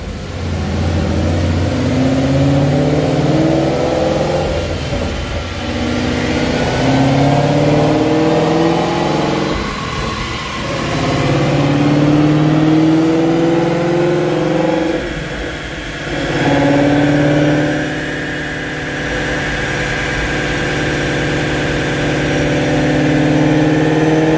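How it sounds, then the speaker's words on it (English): A car engine on a dyno revs repeatedly toward 8000 RPM, its tone climbing in several long pulls with brief drops between them, loud and close throughout with no talking. "rev out to 8 grand"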